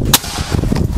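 A sharp, snappy shot from a PCP Predator double-tank air rifle cracks out once near the start, followed by a dense, noisy background rumble.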